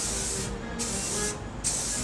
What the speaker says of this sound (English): we're going to prime these in a bright teal spray paint.